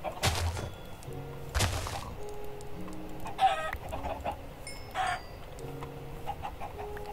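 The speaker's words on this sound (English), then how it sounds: "Got a load of chickens." Minecraft chickens clucking in short bursts, close and moderately loud, mixed with a few soft game thuds against a quiet background.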